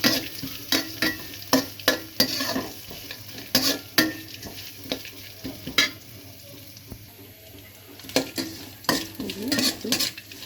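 Grated old coconut and other ingredients lightly stir-fried together in a pan before flattened rice goes in, with soft sizzling and frequent sharp scraping and clanking of a utensil against the pan, close and continuous, no talking.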